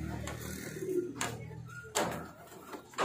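Pigeons at a home loft cooing softly as they are called in to drink, with a voice speaking over them and a couple of brief knocks or sliding-door sounds nearby.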